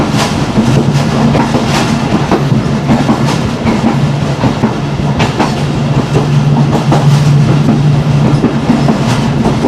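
Pakistan Railways train running at around 50 on the line past Mansoor station after Wazirabad, with steady loud rolling rumble, repeated wheel clicks and a low sustained hum from the guard cabin throughout.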